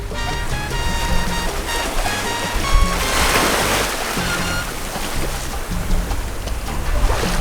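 A sailboat cuts through the sea off Cabo Corrientes on Mexico's coast, with constant rushing water and wave wash against the hull, loud and close, joined by wind.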